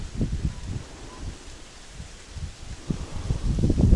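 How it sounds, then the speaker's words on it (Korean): Strong wind buffeting outdoors near a fishing spot, gusting in uneven surges with low rumbling bursts and faint rustling, rising toward the end. "바람이 너무 많이 불어. 날씨 왜 이러는 거야?"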